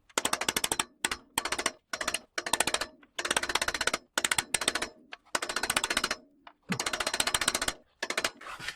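A drift is hammered against the cotter-pin bottom bracket ring of a Union bicycle, with rapid bursts of sharp metallic strikes in quick clustered series, loud and close, separated by brief pauses.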